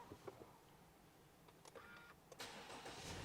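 A 2023 Subaru Outback starts up: a few faint clicks and brief cranking bursts, then the engine catches and settles into a quiet, steady idle, with no talking.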